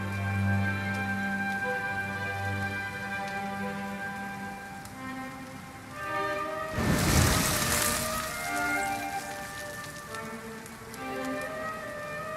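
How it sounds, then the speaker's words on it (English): Steady rain hisses in Dragon Quest XI over a sustained musical backdrop, with a brief louder surge of noise midway before settling back into a continuous wash. "Looks like the rain's dying down."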